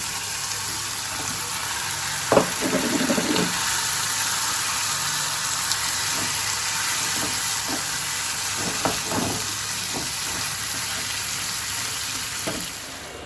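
Fish goes into spiced masala frying in a pan, producing a steady hiss of sizzling oil with occasional louder crackles and spatters, close and continuous for several seconds.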